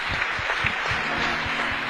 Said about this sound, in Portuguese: Quem entendeu isso, dê uma salva de palmas para o Senhor.